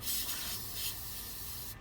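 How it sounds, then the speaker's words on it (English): A soft, hissing aerosol spray paint sounds in short, light bursts close by, coating a column part of a 1933 Willys plastic model kit, with no voices. "we're gonna spray this column"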